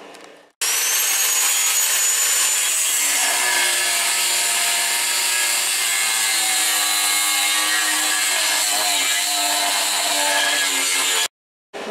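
Power saw cutting through wood in a continuous, loud grinding drone that runs nearly twelve seconds, starting abruptly and cutting off at the end, with no talk over it.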